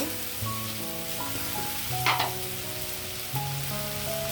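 Beans and potatoes cooking in a pan for a curry, a steady close sizzle with a few stirring clicks and brief bursts of crackle.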